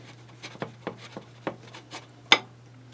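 Knife cutting through a smoked pork chop on a plate, a series of short, faint scraping and crunching strokes in an irregular rhythm, close up, ending in one sharper louder scrape, with a steady low hum beneath.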